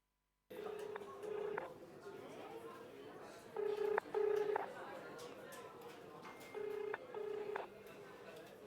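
A telephone call placed to a district official rings out as repeated electronic ringback tones, three double bursts spaced a few seconds apart over a faint hum, fairly quiet.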